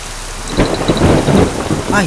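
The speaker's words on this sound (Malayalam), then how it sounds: "നന്നായിട്ട് ഇടിയും വെട്ടുന്നുണ്ട്." During a heavy rainstorm, a sharp crack of thunder bursts over steady rain, followed by a rumbling roll. The rain keeps falling beneath it for the whole short clip.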